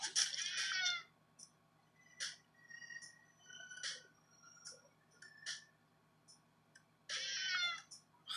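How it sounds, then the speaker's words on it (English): A cat in the Friday the 13th video game meows in several short, loud cries, spaced irregularly between quiet gaps, with longer drawn-out calls at the start and near the end. "I hate that damn cat so much."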